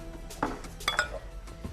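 A cooking pot is handled and set down in a home kitchen while tas kebab is being made, giving a few soft metallic clinks and knocks up close, with no voices.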